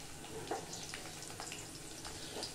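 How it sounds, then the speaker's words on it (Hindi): Finely chopped garlic and green chillies fry in a pan for a ridge gourd (turai) curry, giving a soft, steady sizzle with light crackles at low volume. "और इसे 2 मिनट भून लेंगे।"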